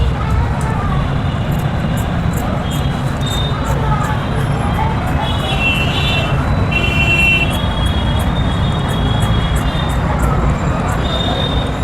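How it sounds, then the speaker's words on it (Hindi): Traffic passing outside a boutique: a continuous, loud rumble of vehicles with occasional high squeals and no breaks, steady throughout. "बहुत शोर है क्योंकि यहाँ पे गाड़ी बहुत चलती है"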